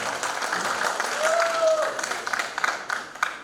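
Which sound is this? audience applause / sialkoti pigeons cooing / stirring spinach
audience applause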